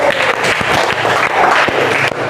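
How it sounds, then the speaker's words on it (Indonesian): A classroom of students bursting into brief, steady applause, dense close clapping filling the room for a couple of seconds with no voices on top. "Jadi tepuk tangan dulu buat Ardi Winata."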